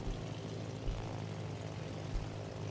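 Carrier-launched aircraft drone overhead in World of Warships, a steady low propeller rumble held at an even level throughout with a few brief low thumps.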